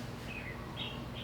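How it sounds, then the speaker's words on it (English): Birds singing outdoors in Hawaii, a few short chirps and tweets over a steady, fairly loud background hum. "I can hear the birds singing in the background."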